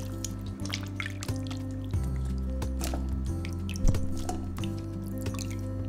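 Whole red snapper being rinsed clean under running water in a kitchen, steady splashing and dripping with wet squishy handling sounds close by, no talk.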